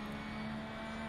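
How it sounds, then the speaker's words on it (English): Porsche GT3 race car engine in a sim racing game at Silverstone, a steady, loud drone with a strong low tonal hum held through a brief moment, no voices over it. "Do love the sound of the Porsche."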